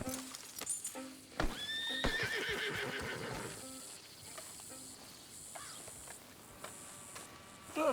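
A horse in Red Dead Redemption II gives a loud, close whinny that rises and trails off, amid hoof clip-clops and rustling movement before quieter shuffling.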